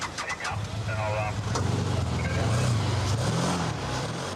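A car drives off along a beach road and turns around, its engine note rising and shifting close by, with a voice speaking over the motor throughout.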